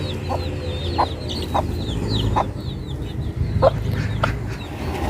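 Chickens cluck repeatedly in short, evenly spaced bursts over a steady low background hum, with higher chirps from chicks scattered throughout.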